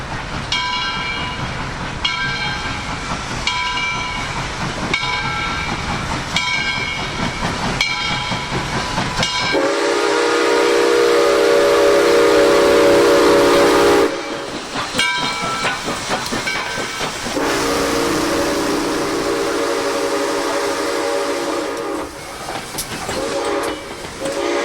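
Steam train rolling along Norfolk Southern tracks through a neighborhood, with rhythmic bell-like tones over hiss and rumble, then long loud steam whistle blasts, alone without talk.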